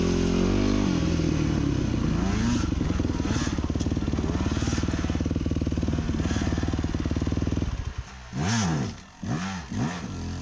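An off-road motorcycle climbs a rocky trail on the route from Bradshaw to Crown King. The engine drones steadily and loudly while the rider feathers the clutch, then the revs surge and dip in uneven bursts near the end.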